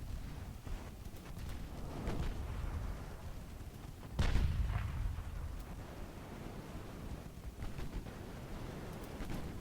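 Naval gunfire in the warship strategy game Ultimate Admiral: Dreadnoughts, with dull booming salvos over a continuous rumbling battle ambience and one heavier blast near the middle.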